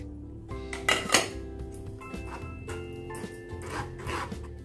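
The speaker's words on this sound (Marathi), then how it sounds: "गाळणीवरून असं ढवळून ढवळून रस काढून घेणार आहे।" A spoon stirs and presses mango pulp through a strainer to extract juice for aamras. Repeated soft scraping and rubbing strokes sound close and quiet, with no talking.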